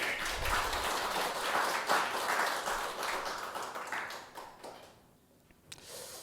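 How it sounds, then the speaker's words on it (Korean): Applause from a church congregation during a Sunday worship service, a broad wash of many hands clapping that holds steady for several seconds, then thins out and fades to scattered claps near the end. "우리 하나님께 영광의 박수 올려드리겠습니다."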